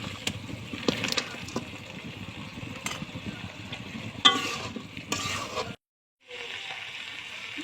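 Fried chicken pieces are stirred into a cooked-down spice masala in a pan, with soft sizzling and repeated scraping stirs, a few sharper clatters, and a brief pause near the end.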